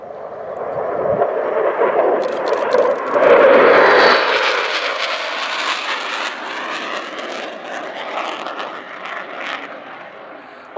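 A Belgian Air Component F-16 fighter jet flies its display at RIAT 2013, with a loud roar that swells to a peak as the jet passes, then recedes into a fading, rumbling whoosh.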